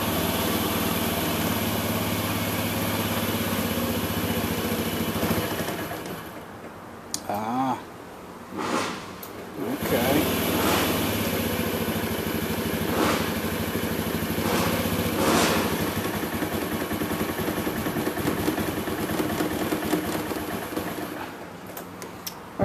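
A 2005 Honda Metropolitan scooter with a rough start and no power runs roughly at close range, a steady buzzing idle that dips and stutters briefly partway through.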